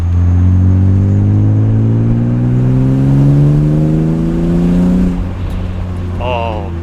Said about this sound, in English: The exhaust sounds awesome. For just an axle back,